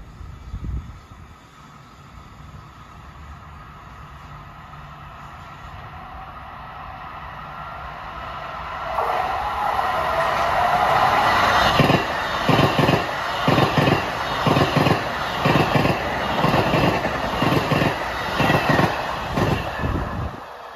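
An LIRR M3 commuter train on the Penn Station to Ronkonkoma run rushes through Merillon Avenue station, a rising rumble building to a loud, close pass with rhythmic clickety-clack from the wheels over rail joints.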